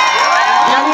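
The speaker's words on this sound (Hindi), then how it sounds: "इम्रान प्रतापगढ़ी जी यांचं जोरदार तालीने स्वागत करावं।" A large crowd at a Congress campaign rally in Deglur cheers and shouts loudly in welcome of Imran Pratapgarhi, a dense, steady roar with whoops that fills the whole short moment.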